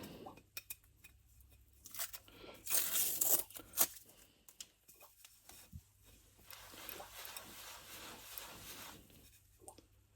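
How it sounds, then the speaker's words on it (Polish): Tape is peeled off a surface with several rasping tearing bursts, louder in the middle, among soft rubbing and handling noises. "Usuwamy taśmę."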